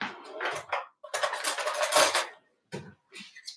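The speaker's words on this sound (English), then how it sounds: "Get my little whisk." A small whisk and metal kitchen utensils clatter and scrape against a bowl or pan in a kitchen while tortillas are prepared, in loud, close bursts separated by short pauses.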